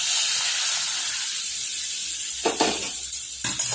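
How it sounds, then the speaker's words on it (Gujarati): Milk added to a hot pan while making sabudana barfi, a steady loud steamy hiss and sizzle throughout, with a few bursts of stirring and bubbling toward the end. "આપણે દૂધ એડ કરવાનું છે અંદર। તો આપણે જે દૂધ ઠીક કર્યું હતું ને એ એડ કરી દઈશું અંદર"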